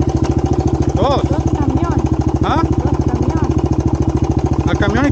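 A motorcycle engine runs steadily close by with a fast, even throbbing pulse, loud throughout, while voices speak over it.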